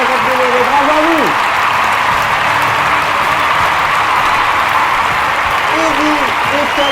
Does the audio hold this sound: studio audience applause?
yes